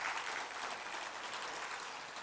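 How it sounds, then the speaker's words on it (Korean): A church congregation applauds during a Sunday morning worship service, a soft, distant, even patter of many hands clapping with no voices on top. "박수 한번 해주십시오"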